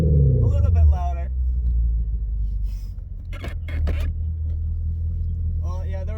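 A V8 Genesis sedan idles with a steady deep exhaust rumble through a new X-pipe with no mufflers and the stock resonator removed, loud and close, with brief scraping sounds over it.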